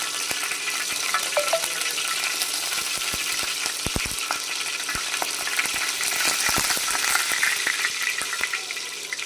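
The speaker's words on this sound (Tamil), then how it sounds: "இப்போ நம்ம வந்து கடுகு போட்டுக்கிடுவோம். கடுகு நல்லா பொரிஞ்சிருச்சு." Mustard seeds pop and splutter in hot cooking oil, sharp irregular crackles and snaps over a continuous close sizzle, with no voices.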